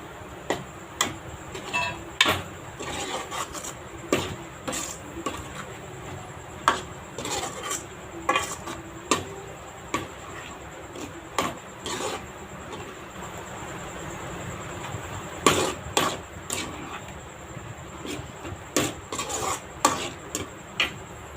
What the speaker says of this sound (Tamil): முட்டையில் எல்லா மசாலாவும் இந்த வெங்காயம், தக்காளி எல்லாம் கலக்கிற மாதிரி கிண்டி விட்டுடலாம்